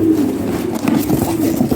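A black Lahori pigeon coos in low, steady rolling murmurs close by, continuous across the moment with no talking over it.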